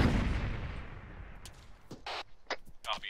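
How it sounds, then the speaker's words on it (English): Frag grenades exploding in a military video game during a realism-unit platoon training session: a heavy booming blast that rolls off, then several sharper shorter bangs and pops spread out after it. "1-3 is popping frags"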